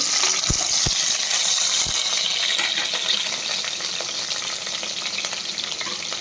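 Paste and curry leaves frying in about five spoons of hot oil for a village-style okra and egg curry, a steady loud sizzle with a few sharp clinks early on, close and without talk.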